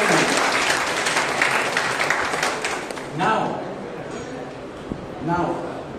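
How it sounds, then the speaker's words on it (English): Congregation clapping at a Lenten retreat, loud sustained applause for about three seconds that fades into softer scattered claps with a voice speaking over it. "Clap to Jesus"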